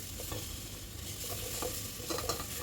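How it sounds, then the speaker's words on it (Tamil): Ginger garlic paste stirred into onions in a hot pan for chicken biryani, a steady close sizzle with soft scraping strokes throughout, no voices. "இப்போ நம்ம இஞ்சி பூண்டு பேஸ்ட்டு அதில் போடுங்க. போட்டு நல்லா பச்சை வாடை போகிற அளவுக்கு நல்லா ரெண்டையும் மிக்ஸ் பண்ணி கிண்டுங்க."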